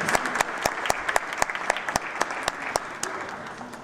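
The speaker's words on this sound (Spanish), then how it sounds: "denle un gran aplauso a Lisa Bulbul" Applause from a conference audience welcoming a speaker, with sharp individual claps standing out over a steady wash of clapping that holds at moderate loudness throughout.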